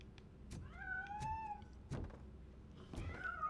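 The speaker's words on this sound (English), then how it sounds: "That was the cat" A cat in the video game RoboCop: Rogue City gives two drawn-out meows, clear and fairly close, with soft thumps and clicks scattered around them and no talking.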